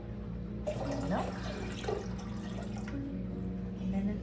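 Milk for cheesemaking being stirred with an up-and-down motion using a stainless steel utensil, a close, continuous liquid sloshing and swishing with soft splashes throughout.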